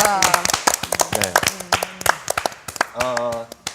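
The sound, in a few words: audience clapping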